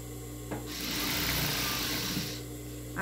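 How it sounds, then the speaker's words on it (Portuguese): A sewing machine runs in one steady burst of stitching through plaid fabric while a pocket is sewn onto an apron, starting after a brief pause, whirring evenly and close for about two seconds, then stopping. "no tecido xadrez, é muito legal da gente costurar"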